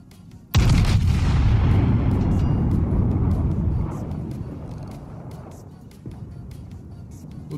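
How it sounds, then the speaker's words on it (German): A huge, close boom of main-gun fire from the British battleship Monarch in the naval game World of Warships hits suddenly, then rolls into a long rumbling decay that fades over several seconds. "die Monarch hat geschossen"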